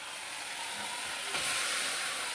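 Pumpkin stalks and potatoes going into spices frying in a pan bring a steady, loud sizzling hiss that swells slightly midway as the vegetables land, continuing without talk.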